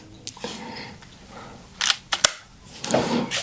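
Small clicks and plastic-and-metal snaps come from a magazine being fitted into a Snowpeak Artemis PP750 .177 air pistol. A few quiet handling noises lead up to two or three sharper clicks close to the mic, then some softer rustling.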